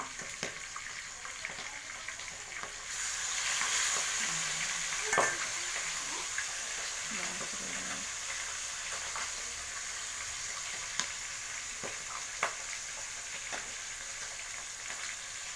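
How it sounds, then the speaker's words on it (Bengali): Katla fish fries in a pan with a steady, even sizzle throughout, plus occasional stirring and utensil clinks, with no voices. "এটা মাছ ভাজা হচ্ছে।"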